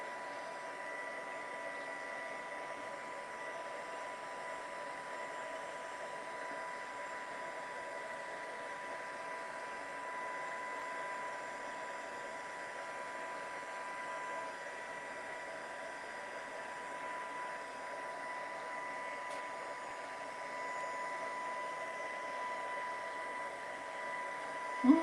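A heat tool blows a steady, even whoosh while white embossing powder is melted across a large area of a card made with a 3D embossing folder; the sound is constant and moderately quiet, with no speech.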